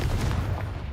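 Confringo spell cast in the video game Hogwarts Legacy, heard as a short cluster of blasting, crackling bursts, loud and close, lasting about a second.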